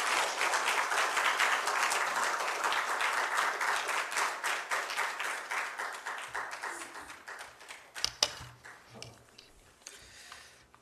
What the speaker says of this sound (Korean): 목사님 나오실 때 박수로 환영하십시다